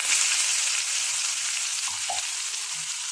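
Ground masala with mustard seeds, cumin and curry leaves fries in hot oil for a ridge gourd dish, a steady close sizzle with a few soft stirring knocks and no voices.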